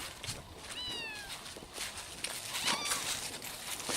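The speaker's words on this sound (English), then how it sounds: "it's definitely a cat" A cat caught in a cage trap meows twice, faint and plaintive, amid steady outdoor background noise and scattered rustling and knocking.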